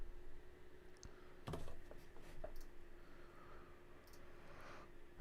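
Keystrokes on a computer keyboard while a code comment is typed, a quiet scattered run of clicks with a brief denser burst, no talk.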